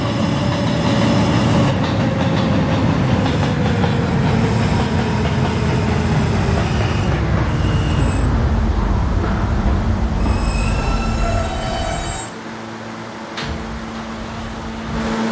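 R160A subway train on a K service in a Roblox game running steadily on rails, a loud continuous rumble with clattering wheels and high squeals, easing to a quieter hum near the end.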